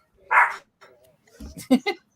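Dogs being walked nearby bark in a few short bursts, one louder bark followed by scattered yips, heard at moderate distance in a quiet room with people talking in between.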